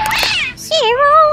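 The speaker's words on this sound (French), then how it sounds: "ça, c'est le chat" A cat meows loudly twice up close, a short high cry followed by a longer drawn-out wavering meow.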